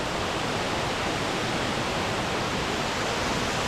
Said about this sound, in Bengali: এখানে একটা ওয়াটারফলস দেখতে পেয়েছি